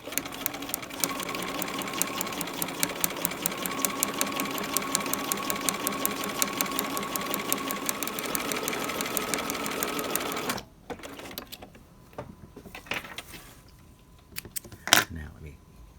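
A sewing machine stitching piping down on a V neck runs in a fast, steady mechanical chatter for about ten seconds, then stops, leaving faint handling clicks and rustles.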